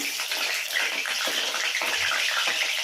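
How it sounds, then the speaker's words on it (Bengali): Potatoes dropped piece by piece into hot oil in a wok sizzle and crackle in a steady, dense hiss that fills the whole stretch, close and fairly loud, with no talking. "চলো আলুগুলো ভেজে নিই।"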